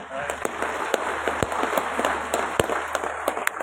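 Guests at a doctoral graduation ceremony at Universitas Wahid Hasyim give scattered, sharp hand claps that ring out in a large hall, irregular and fairly sparse, over a steady background hum and murmuring.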